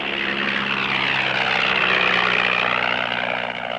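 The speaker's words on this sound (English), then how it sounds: "Flying his own aircraft from a bush strip near his camp" A light propeller aircraft flying from a bush strip near a camp, its engine droning loud and steady throughout with a slight rise and fall in pitch, heard alone without speech.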